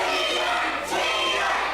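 Wrestling arena crowd roars in a dense, sustained wash of cheering and shouting that fills the hall, loud and continuous throughout.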